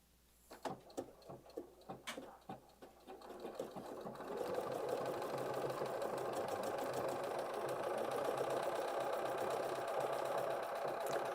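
A sewing machine stitches out a design on fabric for a Kimberbell rope bowl project, a few soft taps and clicks first, then a steady, fast, even mechanical whir that runs nearby to the end.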